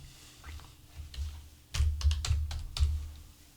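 Keystrokes on a computer keyboard during PC software data entry, a quiet scatter of soft taps at first, then a louder run of distinct clicks and thumps, close and alone with no voices.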